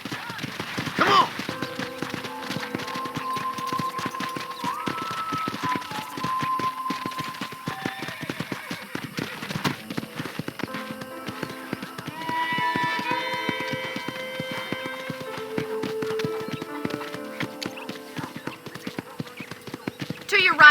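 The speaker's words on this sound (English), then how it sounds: "let's see if you can still ride a horse" Horse hooves clip-clop and gallop at a steady rhythm in the western video game Red Dead Redemption, running continuously near and moderately loud beneath game music and speaking voices.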